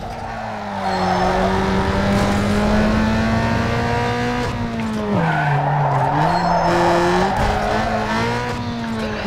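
A race car's engine in the video game Need For Speed: Underground 2 roars at a sustained high pitch while tires squeal and skid, the tone dipping and rising as the car slides.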